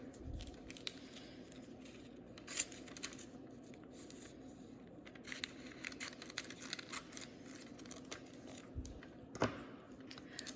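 Scissors snip repeatedly through paper, cutting out a printed gecko lizard picture, with faint, close clicks and rustles in an irregular rhythm against a quiet room.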